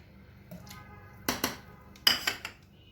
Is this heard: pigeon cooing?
no